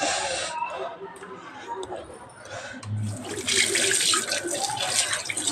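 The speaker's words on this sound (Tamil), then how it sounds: "இப்படி வாஷ் பண்ணிடணும் கை சீக்கிரமாக" Hands are washed under running tap water in a kitchen, with a steady splash and gush growing louder toward the end while someone talks over it.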